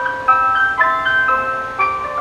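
An ice cream truck's loudspeaker plays its jingle loud and close, a bright repeating electronic melody of chiming notes heard alone without talk.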